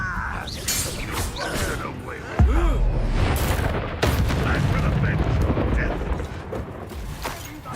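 A Confringo explosive spell is cast in the Hogwarts Legacy video game, sending a heavy, booming blast and a second sharp burst through a loud, dense battle mix. Character voices speak over the fighting.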